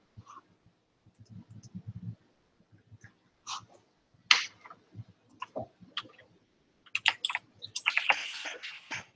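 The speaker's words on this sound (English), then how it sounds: "I'm just typing up a response." Sparse, quiet clicks of keys on a computer keyboard, tapping in short irregular bursts with pauses, ending in a denser flurry of keystrokes.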